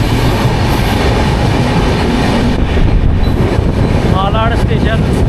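Long-distance passenger train running from Pune toward Katra, a loud continuous rumble and rattle of the carriage on the tracks heard from inside, with faint voices beneath it.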